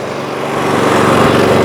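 A Kraft&Dele KD194 inverter generator engine starts and climbs into a loud, steady running drone, heard close up and continuous with no talking over it.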